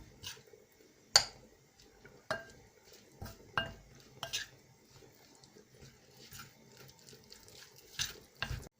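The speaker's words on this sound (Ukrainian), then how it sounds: "Спочатку даю одну ложечку, зараз вимішаю і додам тоді ще одну." Spoon stirring flour into dough in a pot while making a cheese-ball soup, with scattered clinks and scrapes of metal against cookware at irregular intervals, close and fairly quiet.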